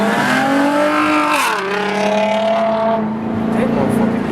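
A car revs hard during a burnout, its engine note climbing and dipping in loud sustained drones with a possible tire squeal mixed in, while a voice talks over it.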